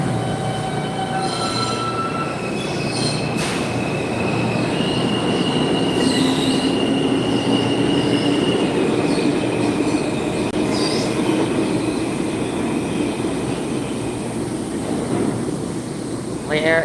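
A subway train rumbles steadily past a station with squealing wheels and high metallic screeches, loud and close throughout.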